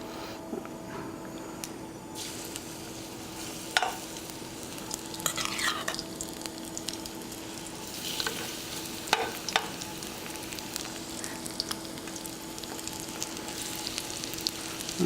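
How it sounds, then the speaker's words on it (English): Sweet potato pancakes fry in a pan, giving a steady, moderate sizzle throughout with scattered light scrapes and clicks from a utensil, and no voices. "we're going to let them cook for a minute or so on one side"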